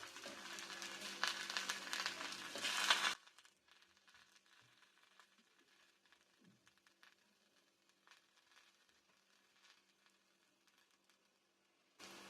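A paratha hits an oiled tawa with a loud, dense sizzle for about three seconds, then drops to a faint, low crackle that lingers quietly until a brief burst returns at the very end.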